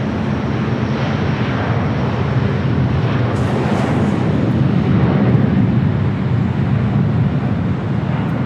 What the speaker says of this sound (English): Portugal A330 Neo heading back to Lisbon